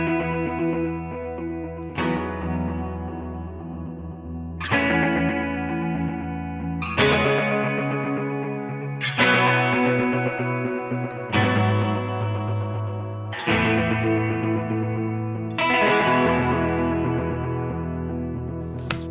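An electric guitar runs through an HX Stomp chorus set to random mode at a raised speed, with sustained chords struck about every two seconds, each ringing out with a wavering, shimmering modulation, played alone without talk.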